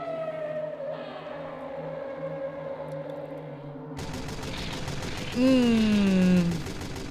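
Minigun fire in a Source Filmmaker horror animation with a sentry piece used as a minigun: a dense, rapid rattling burst kicks in midway and runs to the end, layered with a rising and falling whine over music.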